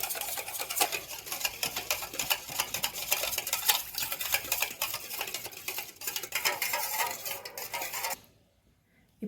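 Crushed pepper being mixed into a chicken leg marinade for homemade KFC-style chicken, a close, steady wet stirring and patting that continues for about eight seconds and then stops abruptly into near silence.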